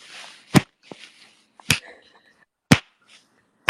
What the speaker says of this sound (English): knocking things off my desk